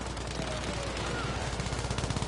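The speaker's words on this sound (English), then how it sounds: "In comes the artillery once again." Artillery fire in a large multiplayer battle video game, a dense continuous barrage of rapid booming shots and crackling gunfire filling the whole moment, with a voice talking underneath.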